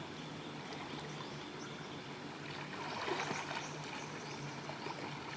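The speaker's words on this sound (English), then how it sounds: "When the rain bounces up on the water, it looks like little stars." Rain pattering onto outdoor swimming pool water in warm Bangkok weather, a soft continuous hiss of drops with gentle splashing and a slight swell midway, faint and even with no talk.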